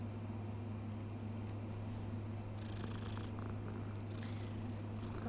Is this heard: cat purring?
yes